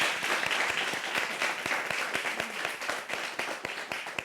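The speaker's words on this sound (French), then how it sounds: "Je vous demande d'applaudir Mouna." A studio audience on a talk show applauds a guest being introduced, producing a moderate, fairly close round of clapping. Individual claps stand out distinctly within a steady patter that gradually thins toward the end.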